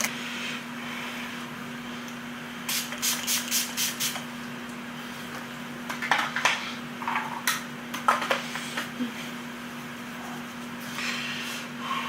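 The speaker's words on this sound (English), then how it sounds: "I'm going to put on some setting spray." Several short hissing spritzes from a bottle of Wet n Wild setting spray, a quick cluster of pumps followed by a few more scattered sprays over a faint steady hum.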